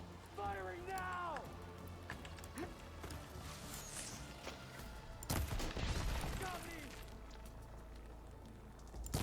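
Bursts of gunfire in the video game Horizon Forbidden West with sharp impacts and a heavy crack near the middle, mixed with game effects, creature cries and spoken voices over a steady background.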